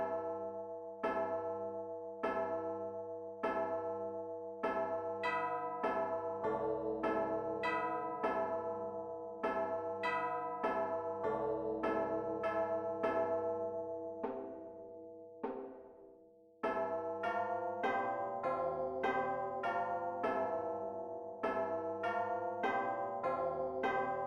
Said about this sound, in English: A combination of the slow beat of the timpani and the slow ringing of the church bells.